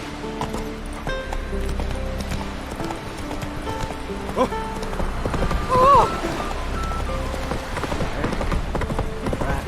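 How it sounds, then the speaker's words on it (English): Horse hooves clip-clopping in The Witcher 3 video game, a steady, moderately close gait over game music and ambience, with a brief spoken remark partway through. "Whoa there, Roach"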